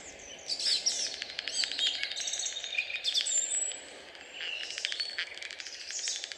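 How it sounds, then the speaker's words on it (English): Several bird species singing together at dawn in mid-June in southern Finland, a dense overlapping chorus of chirps, trills and whistles. The song is continuous and moderately distant. "Birds are singing and the bats are flying"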